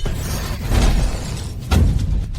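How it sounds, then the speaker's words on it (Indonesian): A god-slaying sword shattering in an animated fantasy fight, two loud close bursts of breaking, crackling debris with deep booming low end, spaced about a second apart, no talking. "Pedang pembunuh dewa, hancur?"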